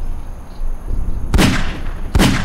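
Two sharp gunshots ring out in Garry's Mod, the first at about a third of the way in and the second near the end, each a loud broadband crack over a low game ambience with no talk.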